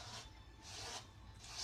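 Light sandpaper strokes across a blade, used to smooth ridges with very gentle pressure, make three soft, close, hissing rubs in a slow back-and-forth rhythm.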